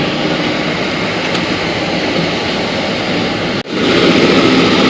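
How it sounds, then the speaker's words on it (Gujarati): A passenger airplane that has just landed in Delhi gives off a loud, steady broadband engine roar and whine that continues throughout, briefly cut and resuming at the end, with no voices. "આ હતું અમારું પ્લેન"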